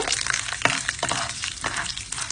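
Onion-style sautéing in sesame oil for Chettinad kara kuzhipaniyaram, with chana dal browning in the pan: a loud, continuous sizzle with quick stirring scrapes and crackles, close up and without talk.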